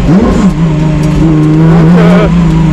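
A BMW M1 Procar "Baltic" race car on a small, slippery winter circuit, its engine loud and close with a steady high drone that rises and falls as the driver works the throttle, heard alone without talk.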